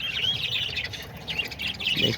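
Lovebirds, parakeets and doves in an outdoor aviary, with dense high chirps and tweets running nearly continuously and close by, and a brief lower coo or squawk near the end.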